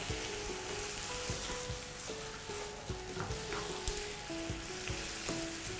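Beef stir-fried with sweet peppers and seasoning sauce sizzles loudly in a hot pan, a continuous close crackling hiss broken by scraping stirs and clatters.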